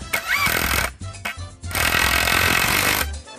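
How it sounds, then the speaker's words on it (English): A power drill drives a fastener into a wooden bed frame in two loud, close bursts separated by brief pauses. "get my drill and let's get it in."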